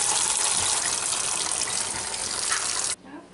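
Tap water pours into a sink as pumpkin seeds are rinsed, a loud, steady close-up gush that cuts off abruptly near the end, leaving faint drips.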